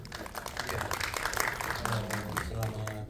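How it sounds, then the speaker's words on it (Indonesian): Applause from a press conference audience at a film press screening, a dense roomful of clapping that runs throughout with voices mixed in. "tepuk tangannya dulu"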